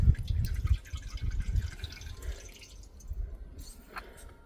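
Engine coolant dripping and trickling into a container during a water pump replacement on an accessory belt, with irregular close drips and splashes, louder at first and then fainter.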